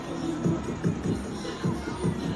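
Crowd at a football stadium during the SWAC championship game between Southern and Jackson State, a broad roar with swelling bursts of cheering under a commentator's voice.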